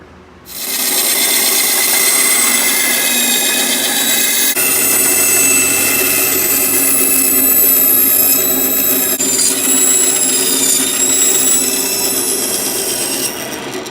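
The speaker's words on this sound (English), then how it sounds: "Now we'll go over to the bandsaw to make some of our curved cuts right here and here." A bandsaw cutting curves into wood for a grill scraper, starting up after a brief quiet moment and then running as a loud, continuous whine with a harsh rasping blade tone to the end.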